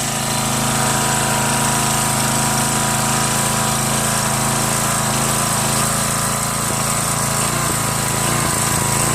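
A Tecumseh 5HP Enduro horizontal-shaft engine runs a 2000 PSI pressure washer that is producing almost no pressure, making a loud, steady, close-up mechanical drone that continues unbroken with no talking.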